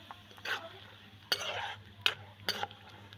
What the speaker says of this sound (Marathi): शेंगदाणे असे तेलामध्ये फ्राय करून घेतले की खायला सुंदर लागते.